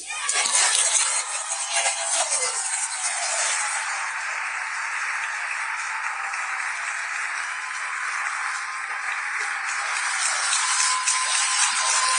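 Town hall audience reacting with a dense, loud roar of applause and crowd noise that swells at the start and stays sustained throughout, with no single voice standing out.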